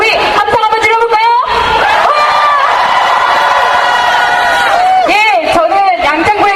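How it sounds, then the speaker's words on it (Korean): A crowd at a street rally outside a bank roars with shouts, whoops and cheers, loud and sustained, with high screaming voices rising over the din and brief calls near the end. "우리 함성 한번 질러볼까요?"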